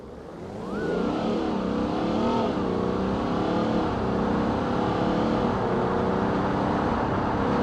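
A BMW car in the BeamNG.drive video game accelerates steadily as its engine note rises and holds, a loud continuous drone with no talking.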